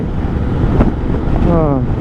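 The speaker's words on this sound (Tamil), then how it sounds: "விண்ட் பிளாஸ்ட் வந்து பார்த்திங்கன்னா சீரியஸாகவே நல்லா காற்று அடிக்குது" Strong wind blasts roar across a helmet microphone during a motorcycle ride at dawn, a loud continuous buffeting rush with someone speaking over it.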